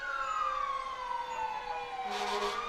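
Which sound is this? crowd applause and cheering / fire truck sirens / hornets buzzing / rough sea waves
fire truck sirens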